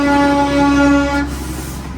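A train horn blares loudly and close for about a second over rumbling rail noise, then cuts off, leaving the train's steady low rumble as it passes at a traffic jam.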